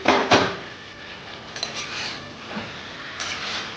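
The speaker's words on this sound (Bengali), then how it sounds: "পনেরো মিনিট বাদে আমি ঢাকনা খুলছি" A metal lid lifted off a cooking pot of chicken curry, giving a sharp clank at the start and then a few light metallic knocks and scrapes, close by with no voices.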